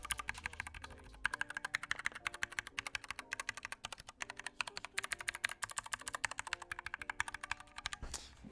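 Rapid, steady typing on a mechanical keyboard fitted with 60 different switches, a close, crisp stream of key clacks at an even pace with occasional heavier strokes, heard alone without speech.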